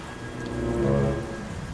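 Steady rain falls in a 3D animated ghost story, a continuous close wash of drops on surfaces that swells slightly in the middle, with no voices.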